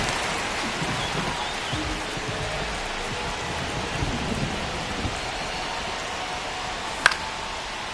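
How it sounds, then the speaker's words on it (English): Steady heavy rain hisses down throughout a ballpark in a baseball video game, an even wash of noise with one brief sharp crack near the end. "This rain is not letting up."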